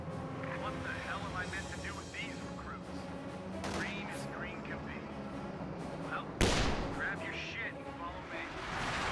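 A Sherman 76 tank fires in a Company of Heroes 2 battle, a single sharp cannon blast near the middle amid steady combat rumble and distant gunfire, heard under continuous commentary.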